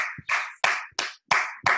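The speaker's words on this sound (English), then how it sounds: "give a round of applause for Joe Policino" About six sharp, separate claps ring out close by in quick succession, each one clean with short silent gaps between, as a round of applause for Joe Policino begins.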